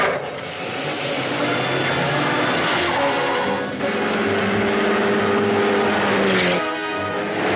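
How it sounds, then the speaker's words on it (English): A car engine revs hard and pulls away, a loud sustained motor roar with a shifting pitch, followed by a brief drop and a rising whine near the end; no talking. "They're taking off in a car."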